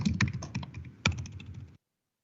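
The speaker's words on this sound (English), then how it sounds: "Is that you typing?" Quick clicking keystrokes on a computer keyboard, a short burst of typing close by, then silence.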